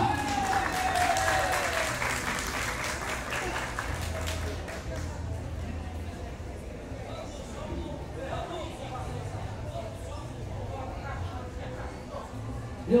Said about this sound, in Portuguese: Queria que vocês recebessem com muitas palmas, muito entusiasmo, alegria, o poeta Val Tabosa